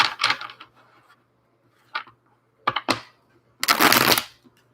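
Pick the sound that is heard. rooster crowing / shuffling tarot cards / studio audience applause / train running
shuffling tarot cards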